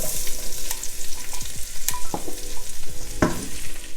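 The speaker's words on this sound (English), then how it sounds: "I'm gonna add a little onion." Chopped onion sizzling and being stirred in reserved hot oil during holiday soul food cooking, a steady frying crackle with scraping stirs and a few sharper clicks throughout.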